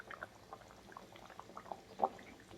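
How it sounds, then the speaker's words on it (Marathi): Spring onion curry with steamed muthiya dumplings simmering in a pot, giving soft, faint bubbling pops with one brief louder burble near the end, with no talk. "5 मिनिटं उकळी मारून घ्यायचं याला रश्श्याला"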